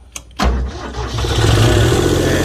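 An old Japanese three-cylinder welding generator engine cranks briefly after a couple of sharp clicks, then catches and settles into a steady, loud running roar that builds slightly and continues to the end.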